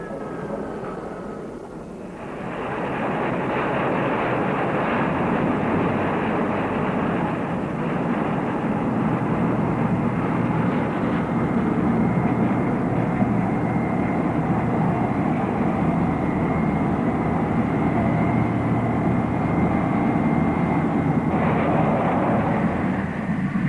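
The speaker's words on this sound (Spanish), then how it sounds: "Un avión tras otro tenía a su disposición su pista y su lugar de aparcamiento independientemente de si despegaba para luchar o de si regresaba de cumplir su misión." Military jets taking off from an aircraft carrier deck make a steady, loud roaring engine wash that swells at the start and holds for a long stretch without any voices.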